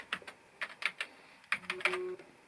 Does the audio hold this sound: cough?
no